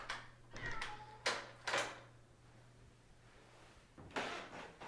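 House cat meowing indoors, a few short faint meows spread over several seconds with light household knocks and a steady low hum underneath.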